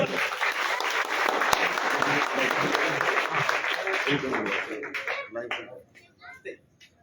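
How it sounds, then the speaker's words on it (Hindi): Loud, dense crowd applause at a village welcome gathering for a social worker in Achra Khurd, Haryana, sustained for about five seconds before thinning into scattered claps and fading. "जोरदार तालियों से स्वागत करे हुए"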